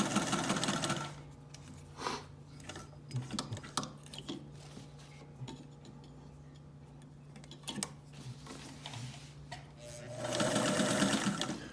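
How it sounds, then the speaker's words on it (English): A Singer 99K sewing machine in a walnut table stitches through a two-layer denim seam from Levi's pocket, a steady close rhythmic whirring with ticking, slowing and pausing briefly, then speeding up loudly near the end. "Right now I'm sewing on that denim seam."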